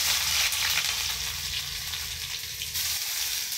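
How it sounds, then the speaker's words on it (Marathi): Onion fries in hot oil in a pan for soybean kheema, producing a loud, dense, continuous sizzle and crackle close by throughout, with no voices. "तेल गरम झालेलं आहे। हा कांदा टाकूया"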